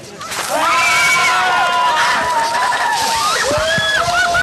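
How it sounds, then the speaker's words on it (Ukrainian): Water gushes from five street hydrants dousing revellers at a Wet Monday festival in Lviv's Market Square, a steady loud splashing and sloshing beneath excited crowd shouts and squeals throughout. "На площі ринок встановлено 5 стендерів, гідрантів, з яких подається вода."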